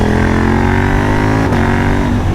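A KTM 890 Duke R motorcycle engine, a twin-cylinder naked bike, holds a loud, steady, close-up drone with a slight pitch shift midway, sounding like revving or sustained throttle, with no speech over it.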